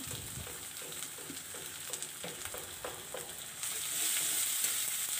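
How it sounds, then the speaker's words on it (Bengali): Ginger and garlic paste sizzles with onions in a pan, a constant frying crackle broken by rhythmic scrapes and taps of a stirring spoon, with the hiss swelling louder near the end. "পেঁয়াজের সাথে একটু ভাজা ভাজা করে নেব"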